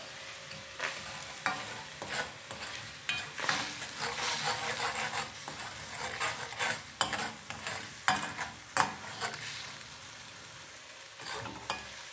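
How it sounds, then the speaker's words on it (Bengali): A metal utensil scrapes and stirs in a hot enamel wok as a boondi batter cooks, a constant sizzling hiss broken by irregular scraping strokes and sharp knocks, close and alone without talk. "এটা কিন্তু আমার নন স্টিক নয়, সেই জন্য আপনারা ভাববেন না যে আমি এটা দিয়ে কী করে খোঁচাচ্ছি।"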